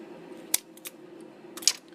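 Scissors snipping through boffer blade material, two distinct close cuts with sharp clicks between quieter rustling, no voices.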